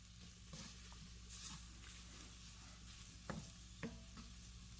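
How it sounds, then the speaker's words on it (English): A tomato soup base is stirred in a pan over a soft, steady sizzle, with a few quiet spoon scrapes and taps; faint overall and no talking. "All right, let's give this a stir."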